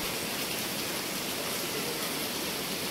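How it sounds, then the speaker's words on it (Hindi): Heavy monsoon-season rain pours down steadily, a dense, continuous hiss of drops on surfaces with no pauses and no voices over it. "आज बहुत ही तेज़ बारिश हो रही है, बहुत तेज़ बारिश है।"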